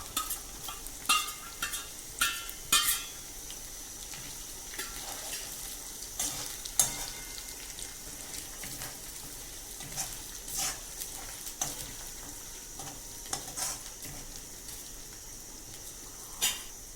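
Chilies, ginger and garlic fry in a pan for dal fry, giving a faint, steady sizzle broken by scattered stirring clicks and scrapes, with no talking.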